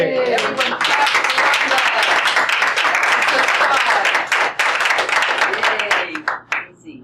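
Audience clapping at a Toastmasters meeting, a loud, brisk burst of many hands lasting about six seconds before thinning into a few scattered claps, with voices cheering faintly underneath.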